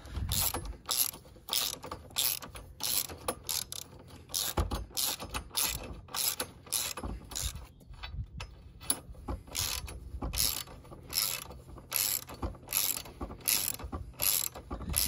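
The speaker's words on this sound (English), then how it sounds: "It's now a case of tightening them back up." A ratchet wrench tightens the engine bar bolts of a GIVI crash bar kit on a 2020 Honda CB500X, clicking in rapid, continuous bursts of sharp ratcheting close up, with brief pauses between strokes and no talking.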